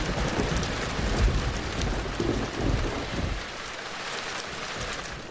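Heavy rain pours down in a constant hiss, with a low rumbling roar in the first half that eases into steady downpour.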